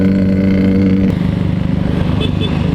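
A Honda Vario 125 scooter engine suffering from a suspected fuel leak and heavy fuel consumption, idling close by with a steady droning hum that shifts to a rougher, pulsing putter partway through.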